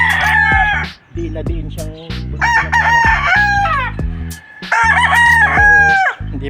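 Gamefowl roosters crow loudly and repeatedly at a chicken farm, with several overlapping cock-a-doodle-doo calls close by and a brief spoken phrase between them.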